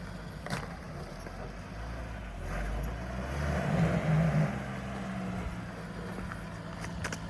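An old Scout off-road vehicle strains on rough ground with its wheels spinning. The engine rumbles low and moderately close, swelling in the middle with a few knocks and bumps, while people talk.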